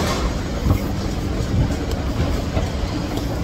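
A crowded MRT commuter train rumbles along with a steady low roar, soft rhythmic rail clatter and faint rattles, heard from inside a car.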